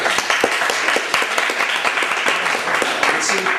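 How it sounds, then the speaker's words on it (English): Audience applause in a hall during a talk on U.S. politics, a sustained crackling wash of many hands clapping with scattered sharper claps, steady and fairly loud. "It's important to applaud"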